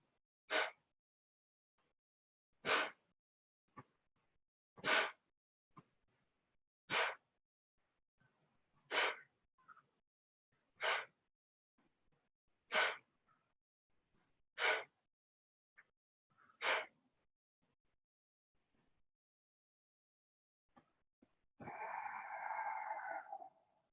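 Kapalabhati yogic breathing: nine sharp, forceful nasal exhalations pumped out at an even pace, close and loud against near silence, followed by one long rushing breath.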